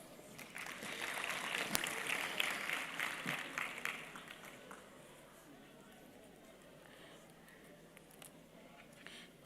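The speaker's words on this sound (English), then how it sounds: "Can we clap for her, please?" Scattered audience clapping at a financial inclusion and women empowerment conference, loudest in the first few seconds and then thinning out to faint, sparse claps.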